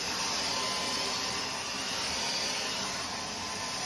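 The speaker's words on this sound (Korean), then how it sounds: "다른 청소기보다 소음이 작습니다." A Dyson Omni-glide Complete Plus stick vacuum cleaner runs steadily at close range, a constant airy whoosh with a high motor whine, level and unbroken throughout.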